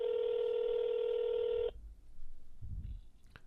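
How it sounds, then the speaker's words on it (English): A telephone call rings out as a steady electronic tone, held for about a second and a half before it cuts off, followed by quiet room noise and a brief low rumble. "You can definitely hear the ringing."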